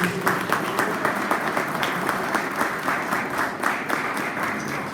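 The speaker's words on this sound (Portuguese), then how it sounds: "Você pode aplaudir Jesus?" Church congregation applauding, a dense, sustained wash of many hands clapping together in a large room, steady and even throughout with no talk over it.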